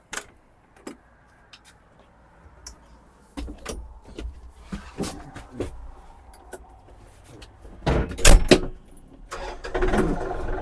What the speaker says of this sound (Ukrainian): Заводиться трактор легко.